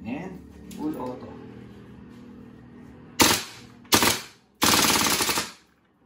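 A WE M4 RIS gas blowback airsoft rifle fires three loud, close full-auto bursts in quick succession, the last the longest, after a stretch of quieter handling sounds and a hum.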